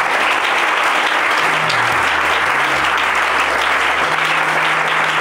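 Church congregation applauding during worship, a dense, continuous wash of clapping that holds steady and loud throughout, with a low tone sustained underneath.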